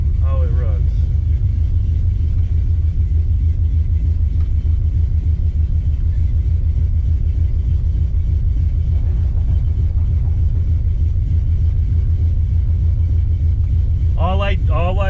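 A Plymouth 340 Duster runs on the road with a steady, deep engine rumble and drone filling the cabin, and someone talks briefly near the start and end.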